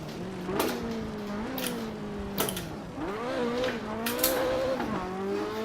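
An Audi S1 E2 rally race car is driven hard through a semi-flat section and shifted up into fourth gear. The engine note climbs and drops in repeated rising pulls, with brief sharp bursts between them.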